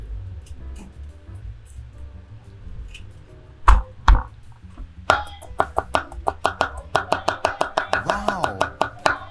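A kitchen knife chops and minces garlic cloves on a cutting board for baked scallops, first a few separate heavy strikes, then a fast, steady run of close, crisp chops that grows denser toward the end.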